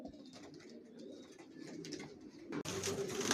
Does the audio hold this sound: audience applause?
no